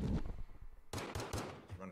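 Gunfire in the video game Call of Duty: Modern Warfare 2: a quick, sharp burst of rapid shots heard close up.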